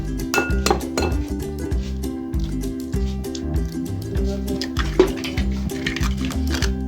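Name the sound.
egg being cracked into a bowl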